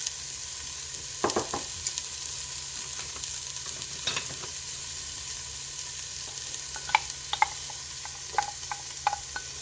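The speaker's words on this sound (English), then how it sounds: "our oil is heating up, and we can throw in our onions first" Chopped onions sizzle steadily in hot oil in a soup pot, a soft continuous frying hiss with a few faint clicks and pops scattered throughout, no talk.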